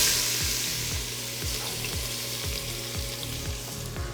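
Diced celery hitting olive oil with pancetta drippings and veal fat, a steady loud sizzle with a regular stirring scrape about twice a second, no voices.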